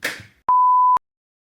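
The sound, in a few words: censor beep over names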